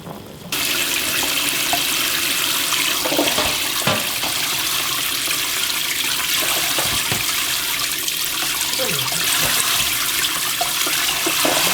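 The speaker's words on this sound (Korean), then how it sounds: "그리고 다시 한번 물에다 한번 씻어야 되거든" Water runs steadily from a tap into a sink while blanched beef short ribs are rinsed for galbitang, a continuous loud splashing rush with occasional clunks and sloshes.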